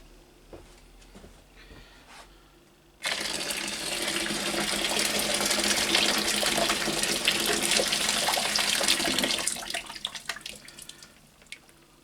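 Boiling water from a kettle pours into a homebrew lager kit tin's contents, a loud steady gushing splash that starts abruptly and tapers off, following a few faint clinks.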